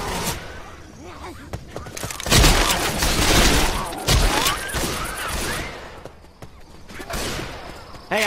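Gunfire in Left 4 Dead 2 on the Dead Center streets, with repeated bursts and sharp cracks over a busy game soundscape, loud and dense through the middle, with players talking.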